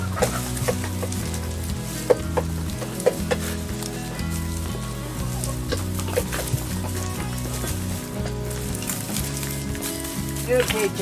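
Backyard chickens cluck and squabble at feeding time while grain is scattered for them, busy overlapping bird calls under a steady mechanical hum, with a person speaking over the flock.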